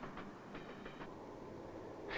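A passenger train rolls along the rails with a steady, continuous rumble and a few faint clicks from the wheels, heard at moderate distance with no voices.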